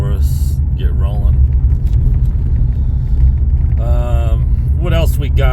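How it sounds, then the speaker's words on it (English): Truck rumble from inside the cab, a steady low engine drone that holds throughout, with someone talking intermittently over it. "Get this truck to pull off for us."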